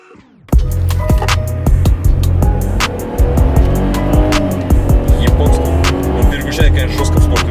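A Mercedes CLS W219 accelerates hard in sport mode, its loud, steady engine roar and rising gear tones filling the cabin from a sudden start onward, with faint road and tire noise beneath.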